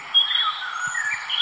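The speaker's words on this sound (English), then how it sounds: "Birds are singing." Birdsong in the video game Deadtale, bright whistled chirps gliding up and down in a short burst with a few soft low thumps beneath, fairly clear and without talk.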